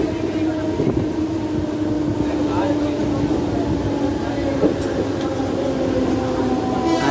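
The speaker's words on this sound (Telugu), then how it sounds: "అంధేరి స్టేషన్కి అయితే చేరుకుంది మన ట్రైన్." A Mumbai local train pulls into Andheri station in the rain, giving a continuous loud rumble with a steady droning hum, faint clanks and occasional squeals across the whole stretch.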